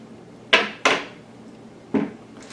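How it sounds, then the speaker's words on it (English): A kitchen knife cuts a cucumber in half while a rice salad is prepared, giving three crisp, close chops against a cutting board: two in quick succession, then a third after a pause. "So first I'll slice this cucumber in half."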